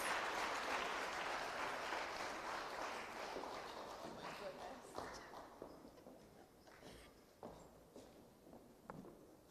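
A round of applause at the opening reception of a Caribbean conference of chief justices and heads of judiciaries, strong at first and thinning into scattered individual claps as it fades.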